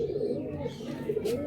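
A pigeon at a loft coos close by, one low, rounded, throaty coo rolling on for a second or so.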